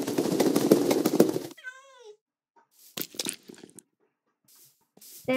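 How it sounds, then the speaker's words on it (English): A cat meows in a video game, a short rising-falling cry after a burst of dense game noise, followed by scattered brief sounds and quiet gaps. "I'm gonna spawn one more cat."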